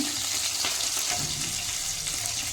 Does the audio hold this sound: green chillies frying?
yes